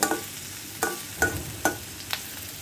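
Onion and garlic fry softly in a little oil while a utensil stirs the pan in several distinct scrapes, a light sizzle underneath.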